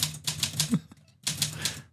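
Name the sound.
typewriter typing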